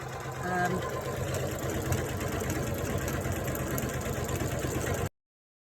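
A Janome Continental M17 embroidery machine with a 9mm foot stitches a leaf design, running as a steady, close mechanical whir that holds level for about five seconds before cutting off abruptly.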